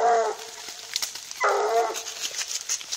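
A bloodhound kept as a house dog gives two loud, close barks, about a second and a half apart, with soft whimpers and background noise between them.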